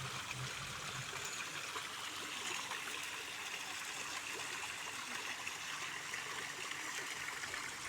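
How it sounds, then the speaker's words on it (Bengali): Water flows gently and steadily in an artificial fountain, a soft continuous trickling wash at low level with no voices. "এই ঝর্ণাতে ঝিরি ঝিরি পানি প্রবাহিত হচ্ছে"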